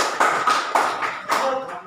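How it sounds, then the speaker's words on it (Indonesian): Brief classroom applause for a student group, a few scattered clusters of claps, close and moderately loud, with a voice in the background. "kita beri aplaus dulu untuk kelompok 1"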